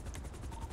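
A video game helicopter's steady rotor thump and whine fill the short moment, loud and continuous with no voices.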